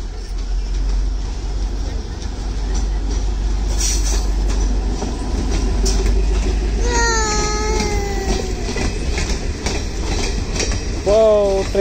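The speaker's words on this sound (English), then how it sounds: "wow, train na rin yun, ah." The Shahadra Delhi–Shamli DEMU rolls into Pataudi Road station with a loud, steady rumble of wagons. High wheel squeals rise near the end, and voices chatter and a child cries nearby.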